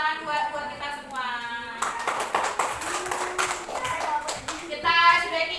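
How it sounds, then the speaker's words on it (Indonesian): A classroom group of children claps together in an Islamic religious education lesson, sharp clustered hand claps in the middle between stretches of a woman's sung or chanted speech. "Tepuk tangan buat kita semua."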